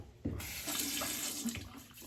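Warm tap water running from a faucet into a bathroom sink before a shave, a steady close splashing stream that starts abruptly and holds at moderate level with no talk.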